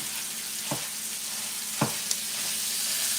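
Sausage browning in a pan for breakfast sizzles steadily and evenly up close, with a couple of faint scraping stir sounds cutting through the constant frying hiss.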